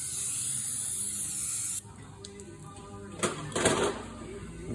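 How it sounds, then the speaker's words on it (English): Brake cleaner sprayed from an aerosol can onto a new brake rotor coated in shelf oil, a loud continuous hiss lasting nearly two seconds, then a few shorter sputtering bursts as the can is triggered again. "You just take some brake cleaner,"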